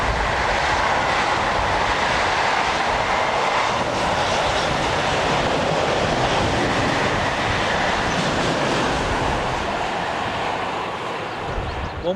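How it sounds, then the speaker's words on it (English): A class 101 electric locomotive heads north hauling an overnight sleeping car train from Munich to Hamburg, a loud, sustained roar and rattle of passing wagons close by that continues throughout. "One 102 heads north with an overnight sleeping car train from Munich to Hamburg."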